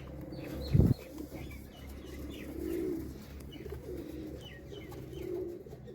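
Pigeons in a coop coo softly in low repeated murmurs, and a short burst of flapping wings comes close by near the start.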